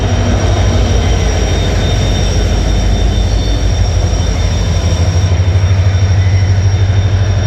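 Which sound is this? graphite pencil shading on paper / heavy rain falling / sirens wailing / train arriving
train arriving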